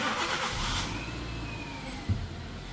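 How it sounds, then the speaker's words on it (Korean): A car with a faulty accelerator sensor starts up: a brief cranking burst settles into a steady low idle, heard close, with a small knock near the end and no talk. "그러면 시동을 한번 걸어 보겠습니다"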